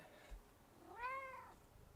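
A hungry male house cat lets out a single close, fairly soft meow with a rising then falling pitch, surrounded by a quiet room.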